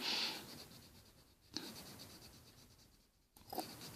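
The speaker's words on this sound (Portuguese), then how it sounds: "essa parte aqui eu vou colorir com mais vibração na cor" A colored pencil scratches across paper in quick repeated strokes, close and soft, coming in bursts separated by short pauses, with no voices.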